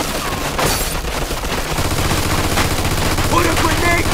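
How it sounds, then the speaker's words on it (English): Rapid automatic gunfire from a machine gun in the video game Mafia 2, sustained bursts of loud crackling shots with echoing booms throughout, no speech over it. "Looks like we found the machine gun."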